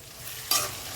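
Chopped onion is dropped into hot oil in a home kitchen pan and starts to sizzle: a sudden hiss that rises over quiet background hiss, then settles into a soft steady frying.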